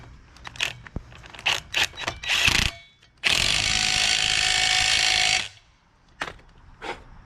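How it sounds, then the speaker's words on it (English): A power tool buzzes in a sustained two-second burst on a Glastron CV16 boat's propeller hub after locking parts clack into place, with short scraping and tapping sounds before and after. "And then I'm going to crank it down with this gun."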